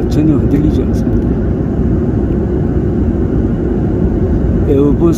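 Steady broadband roar of an Airbus 300 series airliner cabin cruising smoothly at 37,000 feet, a continuous low rumble filling the space with no breaks, loud and close throughout.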